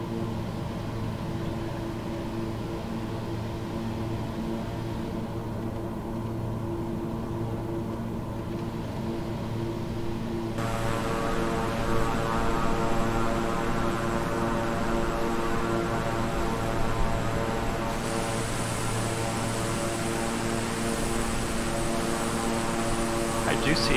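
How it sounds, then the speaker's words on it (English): A King Air 350i twin-engine turboprop in Microsoft Flight Simulator during a high-speed descent, a steady propeller and engine drone with tonal hum that brightens and swells partway through as the throttle setting changes, continuous throughout. "I'm going to pull the throttle back to halfway."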